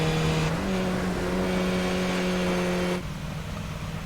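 A race car engine at Road Atlanta, running rough as if damaged, drones steadily with a strong low tonal hum and buzzing overtones, loud and continuous, then drops abruptly in pitch and level near the end.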